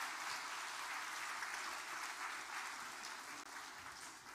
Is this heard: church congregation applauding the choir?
yes